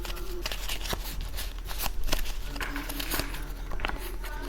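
A deck of tarot cards is shuffled by hand and cards are drawn during a reading. The sound is a continuous close riffling and flicking with soft taps, and a faint hum sits underneath.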